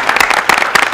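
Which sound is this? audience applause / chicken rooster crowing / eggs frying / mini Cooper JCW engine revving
audience applause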